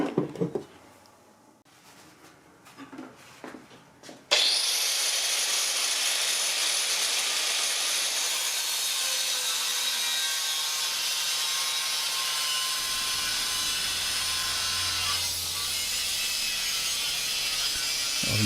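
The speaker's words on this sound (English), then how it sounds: "just with a cutting attachment on the angle grinder." An angle grinder with a cutting attachment bites into a metal bracket for a lathe stepper motor mount, starting after a few quiet clicks and holding a loud, steady, harsh whine for about fourteen seconds with a slight shift in pitch near the end.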